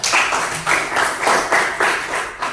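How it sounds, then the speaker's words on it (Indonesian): Students in a classroom clap their hands in a rhythmic pattern of repeated bursts, loud and close, with no talking. "Kasih tepuk tangan."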